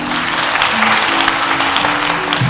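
An audience claps for a contestant at a French spelling competition, a short, even burst of applause with a faint hum underneath and no talking.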